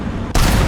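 Gunfire striking the player's tank, an M3 Lee, in the War Thunder video game: a short, loud burst of rapid impacts that erupts suddenly after a quieter rumble and holds as a dense, heavy roar.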